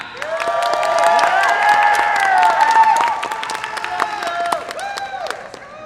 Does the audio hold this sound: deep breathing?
no